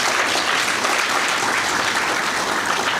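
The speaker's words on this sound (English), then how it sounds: "We can give him another round of applause." A conference audience at an African Plant Breeders Association event gives a dense, steady round of applause that continues loudly for the full three seconds with no speech over it.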